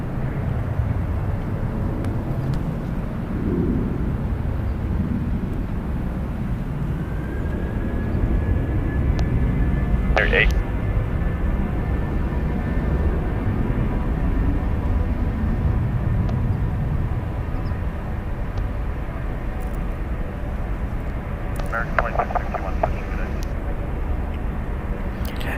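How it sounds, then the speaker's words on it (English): Airbus A321 airliner departing San Francisco International Airport for Philadelphia, a steady distant jet roar and rumble lasting throughout, with a few faint tones and clicks over it. "It's an Airbus A321, 8 years old"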